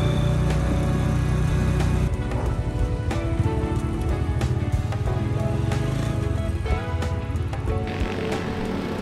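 Light drizzle falls over a city street in Legazpi, a steady wash of patter with scattered drops and faint traffic or movement underneath, continuous and moderately loud throughout.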